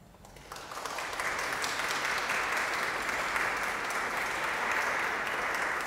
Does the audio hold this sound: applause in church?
yes